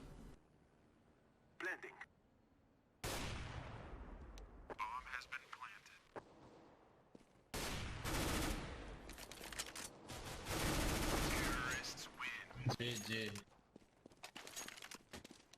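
Scout sniper rifle fire in CS:GO on Dust, several sharp, loud cracks spread irregularly through the clip, some rapid, mixed with other gunfire, footsteps and game noise, with a voice talking over it.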